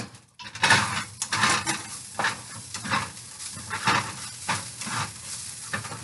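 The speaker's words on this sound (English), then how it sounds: "I'm heating that crab cake up." A crab cake heats in a pan, giving a steady sizzle and hiss broken by repeated scraping and clinks of a utensil against the pan, close and clear with no talking.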